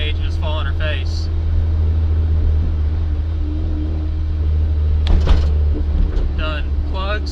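A turbocharged 1994 Mazda Miata engine idles with a steady low rumble, then stumbles and misfires as the throttle opens to half; a voice talks over the engine at the start and again near the end.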